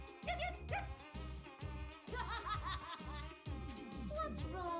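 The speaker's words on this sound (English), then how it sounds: "Is this a dog?" Cartoonish dog barks and yelps from the Puyo Puyo Tetris video game, repeated in short bursts over a steady looping game soundtrack with a heavy rhythmic beat.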